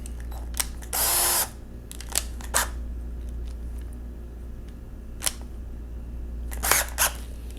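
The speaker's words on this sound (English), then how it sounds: "go back to the small drill bit" A small drill bit runs in one short whirring burst, with scattered sharp clicks and taps around it, in a quiet workspace while an off-road lift is being built.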